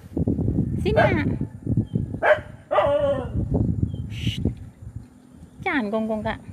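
A dog barks and yips in rice fields while out herding, giving several sharp barks and whining yelps spread across a few seconds, close by, with people talking over and between the barks.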